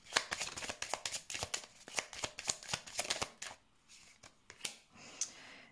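Tarot cards riffle and slap in quick, dense bursts, then a few separate cards snap down onto a surface more slowly near the end, close and clear with no talking.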